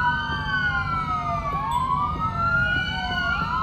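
Wailing emergency sirens sweep up and down continuously over low traffic rumble, in a Police Simulator: Patrol Officers video game scene with ambulances on a PC.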